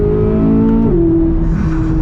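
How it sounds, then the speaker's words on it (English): The engine of a Corvette C8 Z06 climbs in pitch as the driver downshifts one gear, loud and close from inside the car, surging to a higher, sustained howl. "Downshifting 1 gear."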